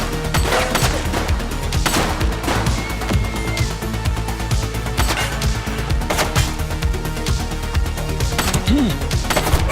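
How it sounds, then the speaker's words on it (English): Gunfire in The Precinct, a police game: dense, continuous shots and impacts crackle loudly throughout, with sirens or tonal game sounds mixed in and only brief traces of voice. "Shots fired!"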